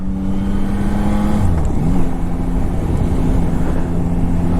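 A Yamaha Tracer GT9+ motorcycle accelerates with a steady, loud engine drone whose pitch dips and then climbs again as the bike pulls away, with continuous wind and road noise underneath and no talk.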